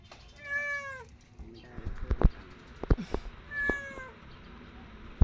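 A stray kitten stuck inside a car's hood gives a few high, wavering meows close by, mixed with knocks and thumps and a person speaking softly.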